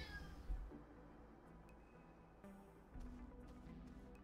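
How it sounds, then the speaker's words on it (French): A cat gives a faint, brief meow near the start over a quiet, steady low background hum, with no talking. "Oui, le chat."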